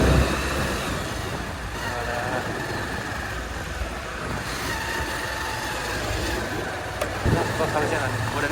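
A motorcycle engine runs steadily while riding on a road near the Jamchen Vijaya Stupa, a continuous close drone mixed with wind and road rumble, with people talking over it.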